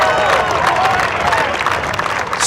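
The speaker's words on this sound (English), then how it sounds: "The 40-footer on 9 brings a huge roar from the crowd at Deer" A golf gallery at Deer Run roars and applauds after a 40-foot putt on the ninth hole. A dense, sustained wash of clapping and cheering fills the whole stretch, with a commentator's voice faintly underneath.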